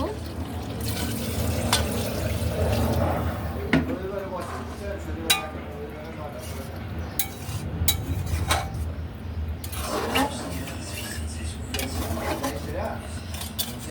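Water pours into a pot of chicken curry, with splashing and clattering of a metal pot and spoon over steady background noise, and a voice talks at times.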